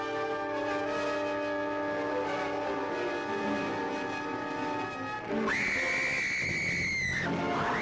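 A woman's high, sustained scream from a 1957 teenage werewolf horror film trailer bursts in loudly near the end, over a dense orchestral music bed that plays throughout.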